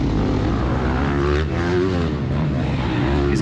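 Motocross dirt bikes, including a Sherco 300 SEF four-stroke, roar past from behind during an off-road country race, a loud continuous engine drone with rising and falling pitch and no talk.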